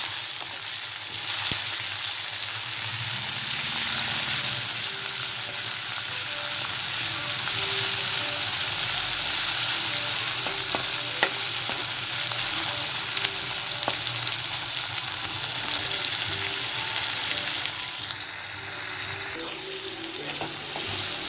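Garlic, onion and tomato frying in a pan for a rohu fish dish give a steady, loud, close sizzle that hisses without a break for about twenty seconds, with only faint clicks from stirring and no talking.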